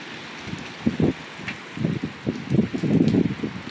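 Gusty outdoor wind buffets the microphone in uneven low rumbling bursts, growing stronger and more sustained toward the end, with no voices.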